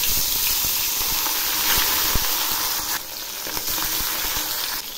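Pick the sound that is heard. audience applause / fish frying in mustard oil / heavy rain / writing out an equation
fish frying in mustard oil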